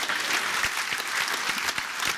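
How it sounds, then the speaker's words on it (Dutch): An audience at a debate event breaks into applause, brisk dense clapping from many people, loud and close, continuing evenly throughout without voices. "En je krijgt een applaus van iedereen."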